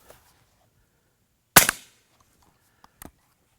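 Suppressed .30 caliber rifle with a Rugged Surge 762 can fires one sharp, loud report followed by a second, much fainter shot about a second and a half later, with nothing but quiet in between.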